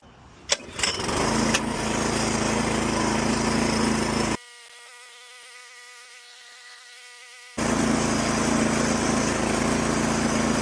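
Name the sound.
lawn mower engine starting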